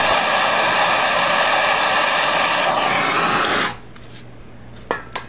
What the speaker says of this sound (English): I'll hit it one more time with the flame and then we'll bust it loose.